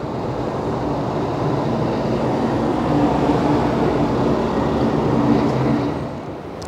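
An illuminated tram rolls past on a Blackpool seafront street at night, a loud steady rumble and rail roar that swells, holds and then eases slightly at the end.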